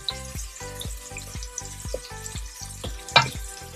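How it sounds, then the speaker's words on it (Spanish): Onion frying in a pan on a ceramic hob, heard as a soft sizzle under a regular pulsing hum from the hob, with a few small clicks and a brief sharper crackle near the end. "vamos a dejar que la cebolla se nos dore un poquito"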